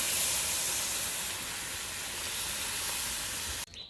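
Thickened boiled cow's milk hits fried semolina in a hot pan with a loud, continuous sizzling hiss that fades slightly, then cuts off abruptly near the end.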